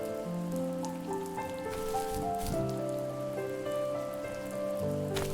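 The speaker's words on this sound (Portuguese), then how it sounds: "a chuva tá caindo" Rain falls in the video game The First Tree, a soft, steady patter running beneath sustained musical tones, fairly quiet and unbroken throughout.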